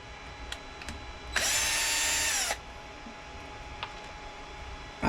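A power drill removing a screw gives one loud, high-pitched whirring burst of about a second, with faint clicks before and after in a quiet workshop.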